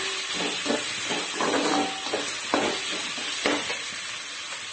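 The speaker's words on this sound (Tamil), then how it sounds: "இதெல்லாமே கொஞ்சம் நல்லா வதங்கட்டும்" Herbs and spices sizzle while they are stirred and sautéed in a pan for a Tirunelveli medicinal rice dish, with a steady frying hiss and scraping stirs throughout.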